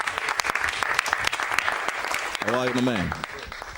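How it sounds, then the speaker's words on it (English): Audience applause on a live African stage show, steady dense clapping throughout, with a voice speaking briefly over it near the end. "Give me a big round of applause"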